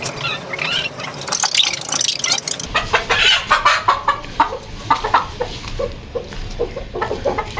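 Paper White Aseel chickens cluck in a run of short, repeated calls close by, rising in density after a quieter start, with faint dripping under them.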